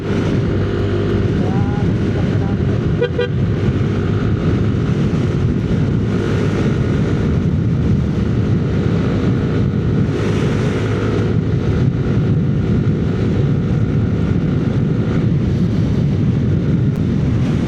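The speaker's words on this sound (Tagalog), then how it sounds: "Lakas ng hangin." Constant roaring wind buffeting with a low engine rumble underneath, loud and unbroken throughout, heard while riding a Yamaha Mio Gravis scooter at speed on a mountain road.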